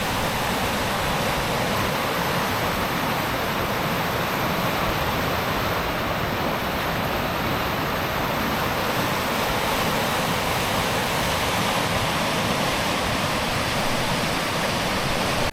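Fast-flowing Asco river in Corsica rushing steadily over its bed, a loud, continuous broadband roar of churning water heard up close with no letup and no voices.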